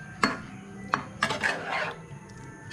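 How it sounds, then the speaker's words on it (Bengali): A spoon scrapes and clinks against a cooking pot while curry is gently stirred, giving a few sharp metallic taps and a brief rubbing scrape, close by and fairly quiet. "এটা আমি জাস্ট হালকা নাড়াচাড়া করেই নামিয়ে নেব।"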